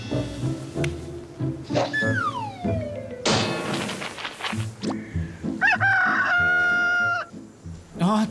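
A rooster crows in a cartoon fairy-tale scene, its call standing out among music and other animated sound effects, with a pitch rising and falling across the calls.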